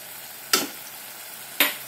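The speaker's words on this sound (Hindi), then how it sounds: "देखिए कढ़ाई तेल छोड़ने लगी है, हमारा मसाला अच्छे से भून गया है।" Masala of tomato puree and spices frying in oil in a kadhai, a steady sizzle broken by two sharp stirring scrapes, close and alone.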